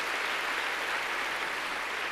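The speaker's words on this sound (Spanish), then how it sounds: "A ver, démosle palmas fuertes, hermano, a nuestro Señor." A church congregation claps their hands loudly and steadily during a worship service, a dense unbroken wash of applause with no one speaking.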